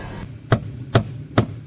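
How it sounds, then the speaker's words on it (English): A hammer strikes a stuck evaporator core from under the hood, working it loose from the plastic firewall of a 1998–2002 Camaro or Trans Am. Three sharp, evenly spaced blows sound close up, with no talking. "I started to hammer on it from the outside underneath the hood to help break it free from the plastic on the firewall"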